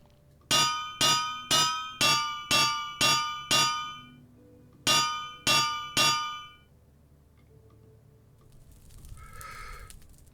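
Superheated Vintium struck with a hammer in a video game: seven evenly spaced, bright ringing metallic clangs, a short pause, then three more, loud and close.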